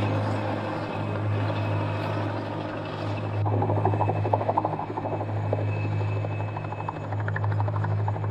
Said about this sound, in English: Sightseeing helicopter flights are arranged in an organized and well choreographed operation.